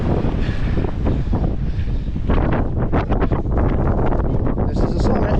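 Strong, gusty wind on the summit of Mount Cardigan, New Hampshire, roars and buffets the microphone, a loud continuous rush with surging blasts throughout.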